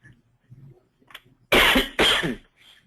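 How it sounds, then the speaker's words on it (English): Two loud, harsh coughs from a man with a cold, in quick succession, close to the microphone, following a few faint small sounds. "I apologize for my cough."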